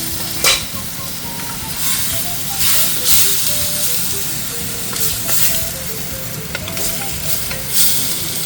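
Cut tofu sizzling in a hot frying pan for mapo tofu, a loud continuous hiss and crackle with bursts of steam, stirring scrapes and faint tones in the background.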